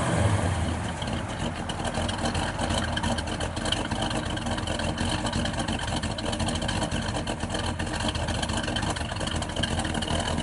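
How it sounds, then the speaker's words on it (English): A 1972 Oldsmobile 442 convertible with a 455 V8 idles through stock-type dual exhaust with bugle tips, a steady low rumble holding constant throughout without talking. "Stock type dual exhaust."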